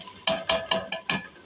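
Garlic ginger paste is stirred as it fries in a pan for dhaba-style mash dal: a steady sizzle with about five rhythmic scraping strokes close by, and no talking.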